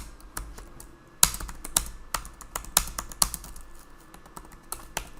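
Computer keyboard typing while editing a Jira automation rule, close crisp keystrokes in irregular bursts with a few louder clacks.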